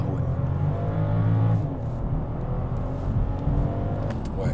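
BMW 550e Touring accelerating hard in sport mode, heard from inside the cabin as a steady, loud low engine drone and road rumble that rises slightly, with a voice speaking briefly near the end.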